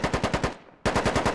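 Rapid automatic gunfire in the military shooter game Squad, two close bursts of evenly spaced loud shots separated by a short decaying gap, no voices.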